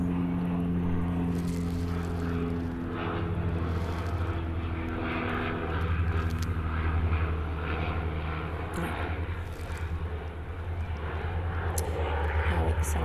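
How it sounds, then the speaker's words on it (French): A Canadair water-bomber airplane flying overhead, a loud sustained propeller-engine drone with a deep throbbing hum that holds steady and rises slightly as it passes, no speech. "Excusez-moi parce qu'il y a encore un avion qui passe."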